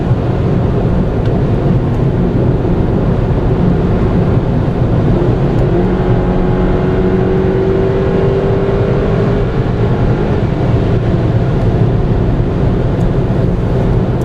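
A 2013 BMW X1 sDrive 28i engine winds out under acceleration, a steady loud drone with a pitch that climbs midway, heard alone with no voices.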